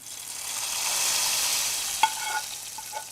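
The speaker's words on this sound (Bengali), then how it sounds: "এবার রান্না করে রাখা ডালে আমি এই বাগারটা দিয়ে দিচ্ছি।" Fried onion-garlic tempering (baghar) poured into cooked masoor dal with drumsticks sets off a steady broad sizzle, with a sharp splash-clink near the middle and a few small clatters after; no voices.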